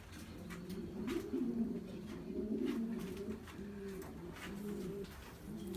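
Racing pigeons in a breeder loft cooing steadily, soft low rolling coos repeating close by with occasional faint chirps and rustles, no talking.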